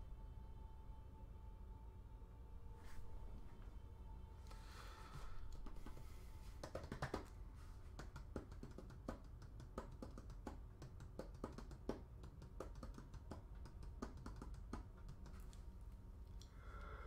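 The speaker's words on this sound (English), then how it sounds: "because I type loud and quickly, you will hear the keyboard a lot more," Fast, loud typing on a mechanical computer keyboard, a quiet close series of sharp clacks in irregular bursts with short pauses, no voices over it.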